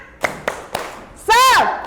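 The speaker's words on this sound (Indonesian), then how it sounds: "Tepuk semangat." Classroom group clapping a rhythmic 'tepuk semangat' chant, three sharp evenly spaced claps followed by a voice calling out, close and loud.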